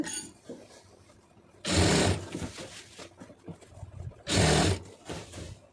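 A sewing machine stitches falls onto a saree in two loud, close bursts of about a second each, separated by a quieter stretch of handling noise, with no talk.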